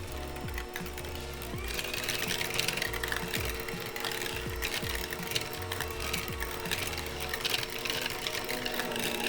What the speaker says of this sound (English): We're gonna take the hand mixer and we're just gonna, I don't know, mix it on like 3 or 4.